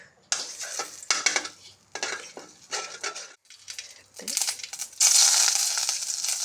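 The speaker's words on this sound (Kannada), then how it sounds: "ಸ್ವಲ್ಪ ಎಣ್ಣೆ ಹಾಕ್ಕೊಳ್ತಾ ಇದ್ದೇನೆ ಸ್ವಲ್ಪವೇ ಸಾಕು ಅದಕ್ಕೆ ಹಿಂಗು" Asafoetida frying in a little oil in a pan while cooking an okra gojju, with bursts of sizzling and stirring clatter that swell into a loud, steady hiss near the end.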